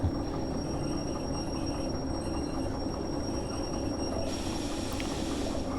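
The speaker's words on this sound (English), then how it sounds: "stop the train before I crash it" A train in the Derail Valley train-driving game brakes to a stop, a steady rolling rumble with faint steady wheel squeal above it, continuous and fairly close, with no talk.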